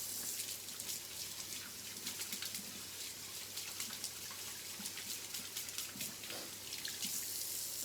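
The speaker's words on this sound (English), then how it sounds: "Wash my hands." Tap water runs steadily into a sink while hands are washed under it, a continuous splashing rush with small bird chirps faintly in the background and no talking.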